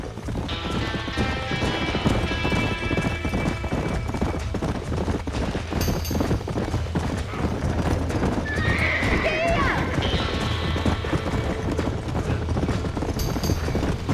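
Horses whinny and neigh inside a burning barn in a Western video game, with hooves clattering steadily throughout, several loud neighs rising above the commotion, and people shouting urgently over them.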